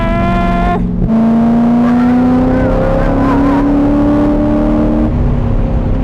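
A DIY race car engine held wide open on a track, a loud continuous drone whose pitch climbs steadily with a brief shift-like drop near the start, close and unbroken throughout.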